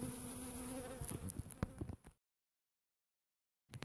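Honeybees buzzing around an open hive during an April frame inspection in an apiary: a dense, close swarm drone for about two seconds, then the sound cuts to silence before briefly resuming.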